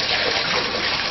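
Water running into a bath at a wine spa, a steady close gushing pour filling the whole moment.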